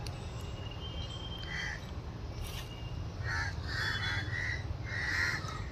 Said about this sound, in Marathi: कावळे ओरडतात ते वरून.